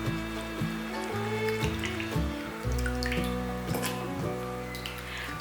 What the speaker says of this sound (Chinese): 莲藕泡得差不多了，给它搓洗一下。